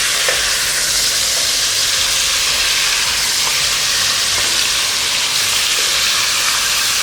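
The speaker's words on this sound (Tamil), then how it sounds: "நெய் சூடானோடனே சிக்கன் போட்டுக்கலாம்." Chicken sizzles in hot ghee for Dindigul biryani, a loud, continuous hiss and crackle close to the pan with faint stirring scrapes and no voices.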